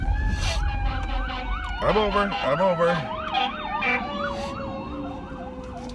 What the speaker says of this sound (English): that's a fire truck